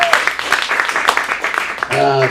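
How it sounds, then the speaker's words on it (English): Audience applause at an adult acting studio's script showcase, a dense wash of clapping that carries through the clip, with a voice speaking near the end. "Give him a round of applause"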